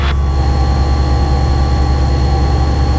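A light training aircraft engine runs with added throttle during a private pilot flight lesson, a loud, steady droning hum with a sustained whine, heard from inside the cabin without any talking.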